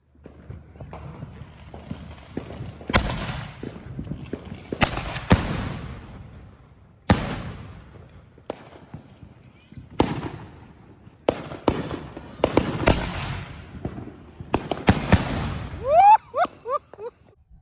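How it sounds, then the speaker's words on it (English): Master 8 canister shell fireworks burst outdoors in a Fourth of July display, with a series of loud, sharp booms spaced a second or two apart, echoing crackle between them and whistling tails near the end. "here's a look at our Master 8 canister shells"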